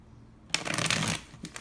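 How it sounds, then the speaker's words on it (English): A poor-quality tarot deck is shuffled up close in one loud, fluttering riffle of about two-thirds of a second, followed by a brief softer card flick. "it's kind of difficult to shuffle sometimes"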